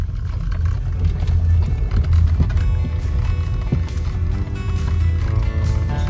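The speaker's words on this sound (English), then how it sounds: "This is Elmer's horse." A horse's hooves clop steadily along, pulling an Amish buggy, under a low rumbling roll of wheels on a road, with a constant hum running underneath.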